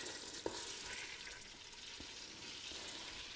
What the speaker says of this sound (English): And we're going to brown this just a bit. So just keep stirring it.